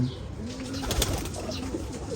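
A Ferozpuri pigeon gives soft, close cooing calls over steady background noise, with a faint rustle near the middle.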